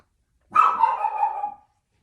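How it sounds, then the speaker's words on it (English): A single drawn-out dog bark, almost a yelp, close and clear against silence. "that's my dog."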